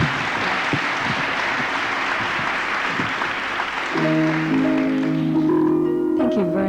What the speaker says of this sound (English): Let's hear a round of applause for Anya Minogue